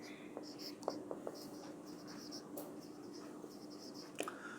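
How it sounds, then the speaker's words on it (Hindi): Marker scratching notes onto a board during a lesson, light taps and short strokes scattered over a steady faint hum, fairly quiet and close, with soft whispery voice traces. "अच्छा चलो ऐसे करता हूँ, यहाँ लिख लेता हूँ।"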